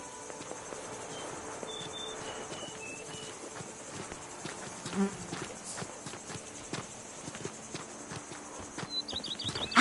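Roach, a horse in The Witcher 3: Wild Hunt, gallops with steady clip-clop hoofbeats over a constant bed of chirping crickets and insects, with small game sound effects scattered through.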